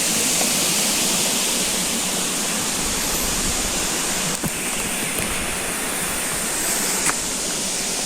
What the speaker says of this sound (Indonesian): Ini sampingnya sungai.